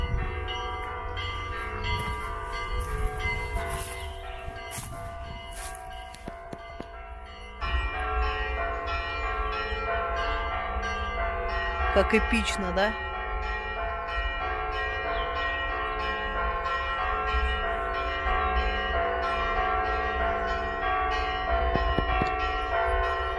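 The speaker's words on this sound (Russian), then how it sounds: "Надеюсь, вы слышите колокола." Church bells ring from a temple near a cemetery at night, a sustained, layered peal of tones heard from a distance, steady and moderately faint, with a brief spoken remark over it.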